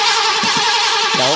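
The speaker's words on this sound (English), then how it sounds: "Go ahead and start it. See what it says." An old car engine that has sat unused for a long time, probably low on oil, turns over and catches, giving a steady engine hum with short uneven sputters.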